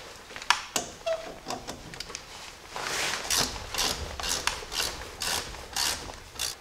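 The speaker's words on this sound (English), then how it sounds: "I'm going to transfer over to my half inch ratchet and finish it off" A half-inch ratchet turns the hub bolts on a Jeep Dana 30/44 axle, giving off a close, steady run of sharp pawl clicks in repeated bursts, with no talk over it.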